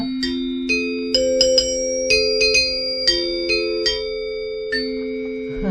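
Chimes ring out one by one in a slow irregular pattern, each clear metallic strike sustaining and overlapping into a long shimmering tone.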